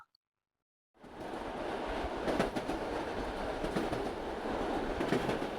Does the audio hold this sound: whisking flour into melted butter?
no